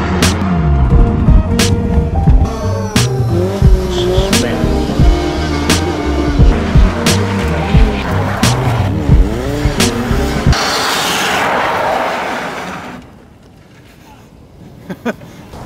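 A loud Lancia 037 Group B rally car engine revs and roars with sharp throttle blips and tire noise during gymkhana driving, cutting out near the end to quiet background sounds.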